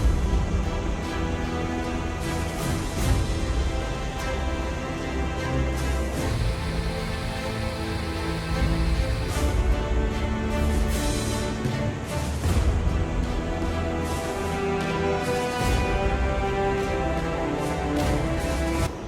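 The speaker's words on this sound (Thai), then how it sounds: "ตอนนี้ก็เริ่มได้ยินเสียงน้ำตกอยู่อีกไม่ไกลแล้ว" Water from a waterfall deep in jungle along a walking trail in Laos rushes in a steady, dense roar that holds unbroken throughout, with no voices over it.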